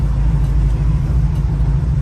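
A 1967 Ford Mustang's engine rumbles steadily from inside the car while driving in traffic, a deep, loud, continuous low drone.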